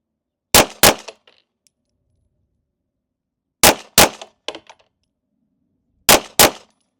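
A CZ Shadow 2 pistol fires three quick double-taps, each a pair of sharp, loud, close shots followed by brief metallic ringing, with pauses of a few seconds between pairs.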